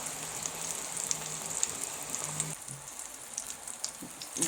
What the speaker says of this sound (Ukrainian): обсмажуємо з обох сторіночок